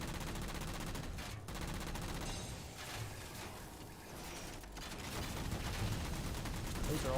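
Continuous rapid gunfire from a human turret in the video game Halo 4, a dense, sustained rattling barrage with brief dips, fairly close and loud throughout.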